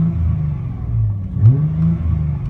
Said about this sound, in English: I'll just close the door so you can hear what it sounds like on the inside.